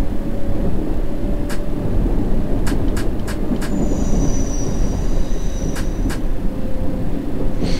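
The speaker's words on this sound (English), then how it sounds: "I love the sound of the train." Subway train rolling on tracks in the World of Subways simulator, a steady loud rumble with sharp wheel clicks at rail joints and a brief squeal as the track switches.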